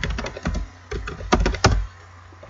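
Computer keyboard keys clattering in quick bursts of close, crisp taps, a short flurry, a pause, then another rapid cluster of presses.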